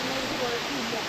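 A waterfall in Coorg, running low in April, makes a steady broadband rush of falling water, continuous and fairly loud, with a voice talking over it.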